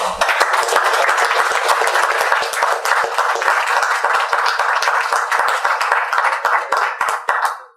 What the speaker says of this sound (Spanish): una vez más, un fuerte aplauso para...